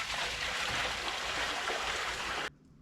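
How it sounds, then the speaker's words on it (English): Water pours steadily into the empty tank of a Vevor 30-litre ultrasonic cleaner, a loud, continuous splashing rush that stops abruptly near the end. "Start with a little bit of water."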